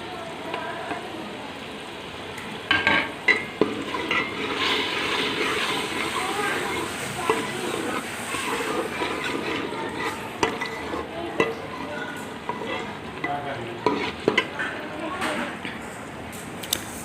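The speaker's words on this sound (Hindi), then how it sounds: "मसाला हमारा भुन चुका है अच्छी तरह और इसने घी भी छोड़ दिया" Masala with star anise and cinnamon pieces is stirred and fried in ghee for beef paye. A steady sizzle runs under repeated scraping and stirring strokes, with occasional louder knocks of the spoon against the pot.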